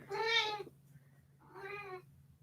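A cat meows twice indoors, two clear, drawn-out calls separated by a short pause, fairly close over a low steady hum.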